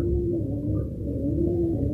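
Pigeons in a loft coo in low, steady, overlapping murmurs, heard close and continuous throughout the brief moment.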